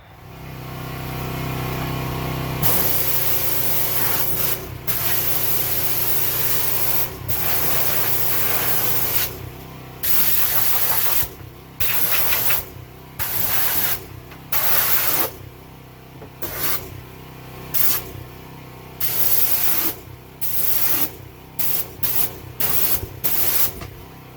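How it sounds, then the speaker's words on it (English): A pressure washer sprays in loud bursts under the dirty swim platform of a 1992 Sea Ray Sundancer 230 boat, the hiss starting and stopping repeatedly with short gaps between blasts. "I'm going to clean that up a little bit now. The pressure washer."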